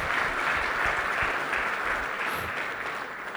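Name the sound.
congregation applause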